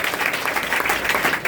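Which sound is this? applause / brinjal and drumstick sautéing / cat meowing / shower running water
applause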